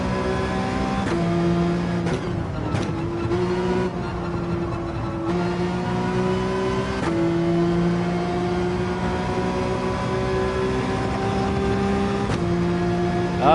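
A racing car engine screams around the Circuit de Spa in Gran Turismo 7, loud and close, revving up through gears with sharp shift breaks and repeated rising whines, with no talking.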